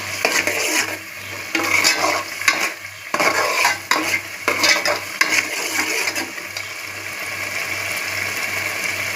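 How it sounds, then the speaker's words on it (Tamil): Turmeric stirred into a pan of food cooking over high flame, continuous sizzling with brisk scraping strokes of a spoon, close and fairly loud, over a low steady hum. "மஞ்சத்தூள் போட்டு இப்போ அதை கிண்டி விட்டுக்கலாம்"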